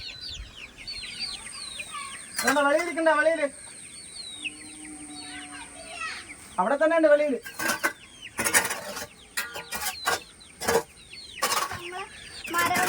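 Young chicks and hens cluck and cheep in a yard at feeding time, with repeated bursts of calls near and far, some sharp clattering, and a person speaking briefly among them.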